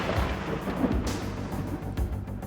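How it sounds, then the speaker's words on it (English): A low, continuous rumble of rolling thunder with a steady hiss of rain over it, heavy and ongoing throughout. "You may hear the roll of thunder and see the flash of lightning."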